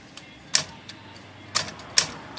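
Sharp metallic type bar strikes on a Smith Corona typewriter with some sticking, binding keys, three or four crisp clacks spaced irregularly over a quiet background, close and isolated.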